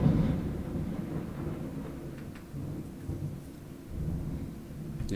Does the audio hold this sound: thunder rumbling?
yes